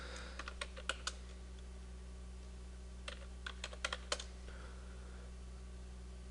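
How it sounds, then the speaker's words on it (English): Bursts of quick computer keyboard typing, close and fairly quiet, in two clusters separated by a pause, over a steady low electrical hum. "Can't type very well today."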